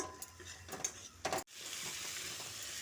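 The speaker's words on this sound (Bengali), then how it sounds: "আমি আরও এক চামচ কাঁচা সর্ষের তেল দিয়ে আলু ও করলাটাকে ভালো করে ভেজে নিচ্ছি" Potatoes and bitter gourd stir-fried with spice paste in raw mustard oil, with intermittent scraping spatula strokes and soft sizzling in a pan, quiet and close, then a steady faint fry hiss.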